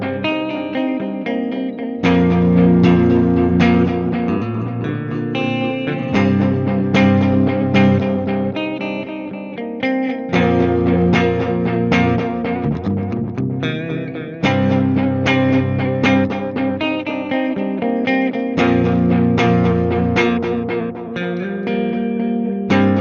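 Tapex 2 tape echo pedal set to a damaged-tape mode, processing a continuous loud musical passage with warbling, smeared repeats and chorus-like wobble, distorted and reverberant, with brief gaps between phrases and no talking.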